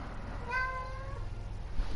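A cat gives one clear, fairly close meow in the middle of a short quiet stretch, with a low steady hum underneath and no talking.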